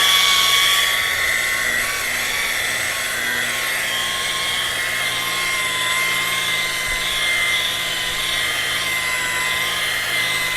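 A polishing pad with fine cut cleaner buffs a foggy headlight lens, giving a steady high-pitched whirring drone close by that runs unbroken throughout, with no speech.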